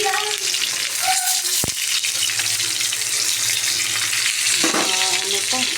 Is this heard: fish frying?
yes